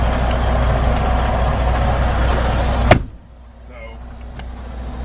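A truck's engine idles as a steady low rumble, then a sharp hiss or burst of air cuts off abruptly, leaving a quieter idle with faint mechanical sounds.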